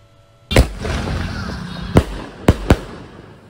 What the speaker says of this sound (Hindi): मुझे तो ये स्काई शॉट अच्छा लगा